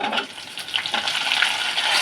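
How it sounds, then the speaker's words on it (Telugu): Dried red chillies and garlic fry in a pan for brinjal tomato chutney, giving a dense, continuous close-up sizzle with faint stirring, no voices. "ముందుగా ఎండుమిర్చి, అలాగే వెల్లుల్లిపాయలు, వీటన్నిటిని వేపేసుకుందాం."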